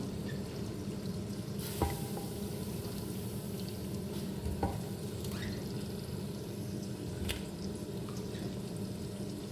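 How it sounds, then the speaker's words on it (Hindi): Goat trotters (paye) browning in a pot with garam masala, a dense continuous sizzle and bubbling with a few sharp utensil taps and scrapes, close and steady, no voices. "पाए डालकर मैं इसको भूनूंगी"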